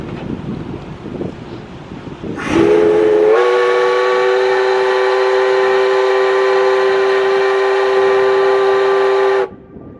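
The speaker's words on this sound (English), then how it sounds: "Another enthusiastic steam toot announces our return into Savonlinna." Steam whistle of a steamship sounding one long, loud toot on return into Savonlinna harbour, a steady multi-tone blast of about seven seconds over wind noise, starting abruptly and cutting off cleanly.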